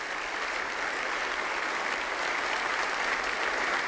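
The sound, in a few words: hearty applause in parliament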